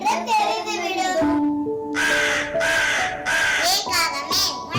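At a school Christmas and annual day play, a child imitates a crow's caw, a run of loud, harsh, nasal cries alternating with spoken lines in Tamil over a stage microphone.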